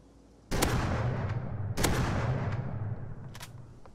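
Rust's new double-barrel shotgun fires twice about 1.3 seconds apart, each a loud, heavy boom with a long decaying rumble, followed by a fainter sharp crack near the end.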